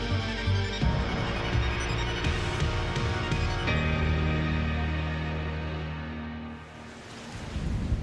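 Thunder rumbles low and heavy amid a wash of rain, swelling and fading over several seconds, with a deep roll returning at the end.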